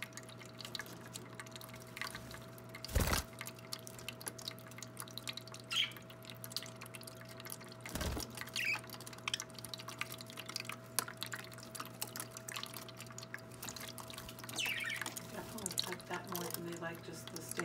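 A new water fountain in a parakeet cage drips steadily, with soft repeated drops and trickles close by, two louder splashes, and faint bird chirps rising near the end.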